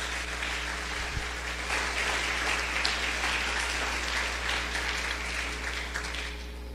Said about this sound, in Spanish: Dele un fuerte aplauso al Señor por ser tan paciente.